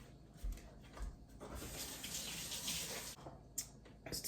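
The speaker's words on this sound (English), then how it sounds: "I'm going to wash my hands again." Kitchen tap running steadily while hands are washed, a close hissing stream with splashes and soft bumps, broken briefly by a pause before restarting.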